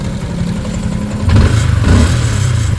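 A Yamaha Sniper 155 motorcycle engine idles with a steady low throb, then revs up sharply midway and holds a louder, rougher growl, heard close with no talk.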